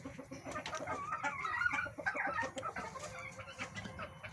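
Local hens clucking in a poultry room kept for egg laying, a dense overlapping chorus of soft clucks and calls from many birds, moderately close and continuous.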